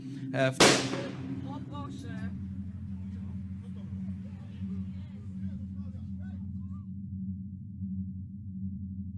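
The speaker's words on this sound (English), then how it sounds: "when out of nowhere, a gunshot rings out" A single sharp gunshot-like bang cracks out near the start, followed by a steady low hum and scattered faint voices in the background.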